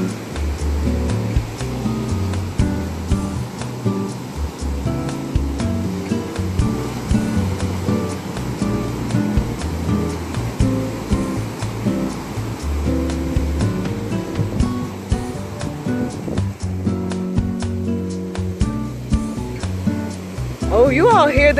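Steady ocean waves wash and roar continuously on the coast of Ghana, West Africa, with people talking over the surf throughout.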